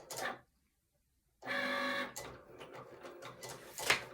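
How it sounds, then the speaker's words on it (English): A Cricut machine working on premium vinyl gives short motorized whirs and mechanical buzzing, a brief burst, then a pause, then a longer run with shifting tones and clicks, close by and fairly quiet. "And now it's going to print."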